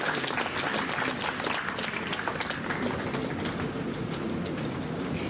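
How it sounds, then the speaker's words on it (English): Audience applause at a university Independence Day awards ceremony in Meerut, a thick, steady roar of many hands clapping that fills the space evenly and continuously. "Big round of applause from the faculty member from the IMT Academy."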